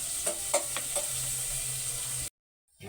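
Chopped garlic sizzles steadily in hot cooking oil in a pan, a constant bright hiss with a few clinks of stirring near the start, until it abruptly stops.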